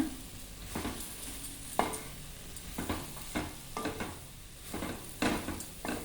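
Mushroom pieces sautéing in oil in a pan over a medium flame, with a steady sizzle broken by repeated stirring scrapes and clinks of the utensil against the pan, close and fairly quiet.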